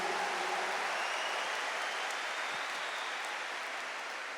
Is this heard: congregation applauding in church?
yes